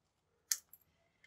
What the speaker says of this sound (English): if you just go in with your scissors and just do a little angled trim